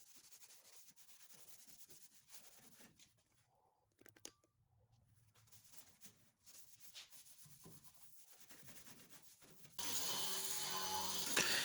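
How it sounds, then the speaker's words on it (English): A flap wheel sands a car chassis undercarriage during an old-vehicle restoration, with quiet scraping and rubbing in the first part and then a sudden loud, steady abrasive whir in the last two seconds. "And we're going to run over it one last time with the flap wheel."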